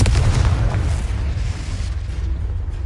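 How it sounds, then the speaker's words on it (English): Confringo spell explosion in the game Hogwarts Legacy, a loud, sustained rumbling blast with heavy low-end crackle that holds steady before easing slightly. "Expelliarmus! Confringo!"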